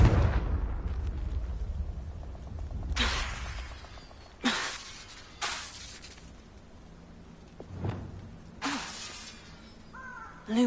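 Confringo explosive spell blasts in Hogwarts Legacy land as several sharp, loud bursts spread across the scene, each followed by a short decaying rumble, with fainter magical tones in between.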